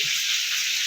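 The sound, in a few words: bhetki fish frying in a pan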